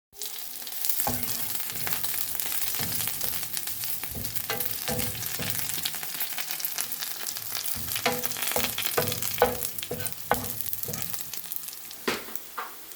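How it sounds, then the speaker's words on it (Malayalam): Mustard seeds, ginger and curry leaves frying in hot oil for prawn pickle, a steady close sizzle with scattered sharp pops and crackles throughout. "അതിലേക്ക് നമുക്ക് കുറച്ച് കടുക് ഇട്ട് കൊടുക്കാം. അതിലേക്ക് നമുക്ക് കുറച്ച് ഇഞ്ചിയും കറിവേപ്പിലയും കൂടി ഇട്ട് കൊടുക്കാം."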